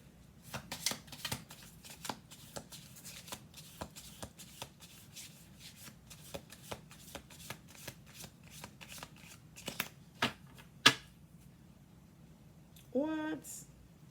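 An oracle card deck is shuffled by hand in a long run of quick, crisp riffling snaps and flicks, close and fairly quiet, ending in a brief burst of louder handling.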